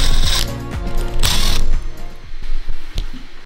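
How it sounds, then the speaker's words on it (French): Old metal brackets and wood screws being removed, likely with a ratcheting screwdriver or driver: loud, close mechanical ratcheting bursts with rapid clicking, then sparser individual clicks and knocks. "j'enlève les anciennes équerres et les vis à bois"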